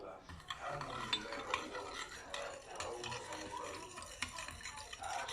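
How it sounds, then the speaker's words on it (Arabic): A spoon stirs yeast together with a spoonful of powdered sugar in a small bowl, giving soft, continuous scraping and rubbing close by, with light clinks against the dish and no talking. "واقلبها كده واحطها على جنب"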